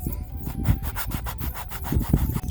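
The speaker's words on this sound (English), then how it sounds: "So you use this little bit of sandpaper. Yep. then you want to Roughed it up." Sandpaper rasps back and forth over a rubber e-bike inner tube to roughen it for a patch, giving steady rhythmic scrubbing strokes close up with no talk.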